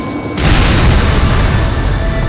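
Missile explosion in the PSP flight combat game Ace Combat: Joint Assault, a sudden loud boom that bursts in after a brief quieter moment and rumbles on as a dense, sustained roar.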